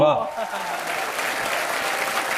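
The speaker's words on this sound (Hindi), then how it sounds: "जोरदार तालियां रेखा जी के लिए" Loud, steady audience applause for Rekha, dense clapping that fills the whole moment after a brief voice at the start.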